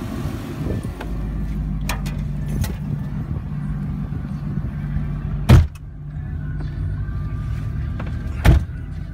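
2002 Ford F250 XLT SuperCab 4x4 pickup with a 5.4 V8 on a test drive, a steady low cabin engine drone with two sharp knocks and faint whirring, no talk.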